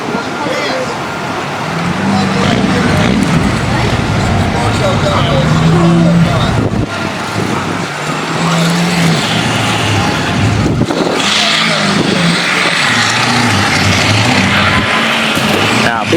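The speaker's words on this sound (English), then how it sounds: "he got Daddy's diesel stuck in the sand" A diesel truck stuck in beach sand at a Daytona truck meet revs repeatedly, the engine rising and falling in loud surges over steady roar, with people talking over it.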